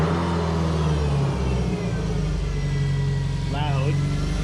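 A 2013 Subaru STI with a new donor engine fires up and revs loudly up close, a steady rough idle rising into a sharp throttle blip near the end.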